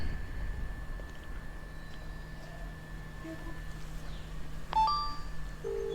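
A mobile phone dials out a call, with a brief cluster of electronic tones near the end over a steady low hum and faint room noise, with no talking.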